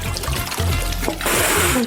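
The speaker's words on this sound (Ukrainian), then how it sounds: "Залити цю пожежу може тільки відро води" Loud rushing splash of a bucket of water poured onto a fire in a steady gush, following a brief busy mix of noise, close and continuous to the end.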